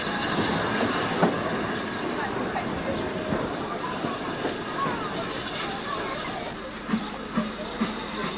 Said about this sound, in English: A Cantabrian mogul nears the end of its journey.